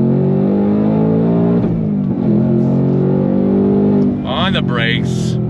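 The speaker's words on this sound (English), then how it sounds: "On throttle, here we go." A 2024 Ford Mustang Dark Horse accelerates hard under full throttle, its loud, close engine note climbing steadily through the revs. It dips briefly at a shift and winds up again, with a short burst of talk over the roar near the end.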